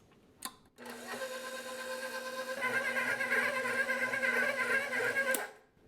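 An electric mixer kneads pizza dough with added olive oil, giving a steady whirring motor hum that starts after a click, runs for about five seconds, then cuts off.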